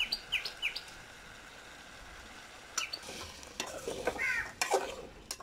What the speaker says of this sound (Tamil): காய் வந்து எண்ணெயில கொஞ்சம் நல்லா வதக்கி விட்டுறலாம்